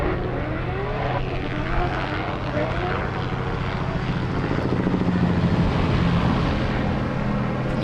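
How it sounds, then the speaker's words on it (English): Helicopter passing overhead near the Sebring raceway, a steady loud rotor and engine drone filling the whole stretch with a slight swell toward the end, with voices talking underneath. "It's a helicopter going over us, man."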